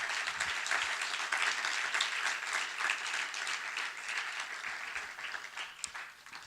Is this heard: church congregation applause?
yes